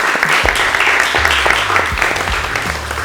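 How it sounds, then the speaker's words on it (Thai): Contestants on a Thai tattoo competition show applaud themselves, dense, lively clapping that holds steady at close range for a few seconds. "ขอเสียงปรบมือให้กับตัวเองก่อนเลยครับ"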